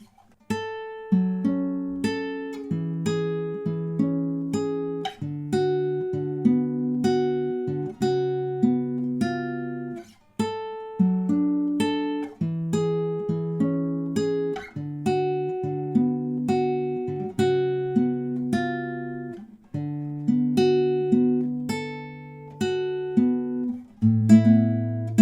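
Fingerpicked acoustic guitar plays the intro of a song, a steady flowing pattern of plucked bass notes and arpeggiated chords repeating in phrases, close and clear with no voices.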